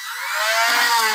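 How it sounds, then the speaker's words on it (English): A high-pitched Dremel with a sanding disc whines steadily and close while removing rust and paint from a 1977 VW bus suspension part, its tone rising slightly, with a faint grinding rasp underneath. "I've got a Dremel tool here with a sanding disc on the end,"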